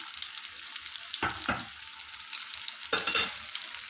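Onions, curry leaves and green chillies fry in hot oil for an egg curry, giving a steady close hiss of sizzling with a few louder bursts as they are stirred.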